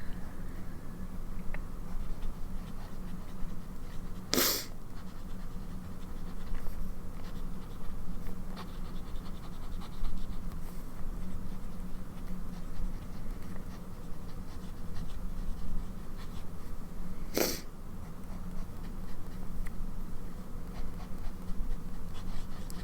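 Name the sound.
fountain pen nib scratching on paper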